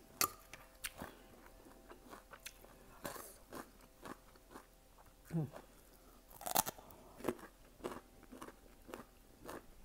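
Crunchy chewing of crispy fried food, close to the mic, with repeated crisp bites and crackly crunches spaced irregularly and no speech over them.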